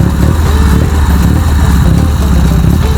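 Dnepr motorcycle engine running steadily and loudly close by, a continuous dense mechanical rumble with no pauses, the new bike's motor later reported as seizing.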